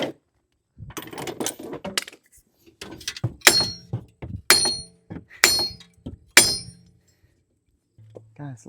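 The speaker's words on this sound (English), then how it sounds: "let's just use a hammer for that one" Loud, sharp hammer blows knocking out a Toyota RAV4 wheel bearing, about four evenly spaced hits, preceded by clattering and handling noises.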